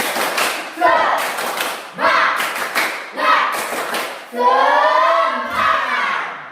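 Schoolchildren in a classroom perform the tepuk semangat clapping chant: loud rhythmic bursts of group claps set off by short pauses, with voices shouting along in unison.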